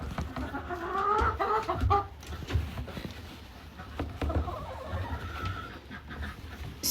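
A farm chicken clucks close by in irregular bursts, with soft pecking taps and rustling mixed in among the calls.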